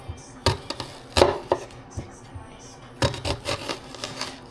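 Lengthwise downward knife cuts through an onion on a board: a series of crisp slicing chops in two quick bursts, close-up, with brief scraping between strokes and no voices.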